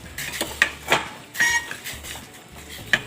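Palm sugar being stirred into boiling water in a pot: a utensil scrapes and clinks against the metal pot in several distinct knocks and rattles, close and fairly loud, with no voices.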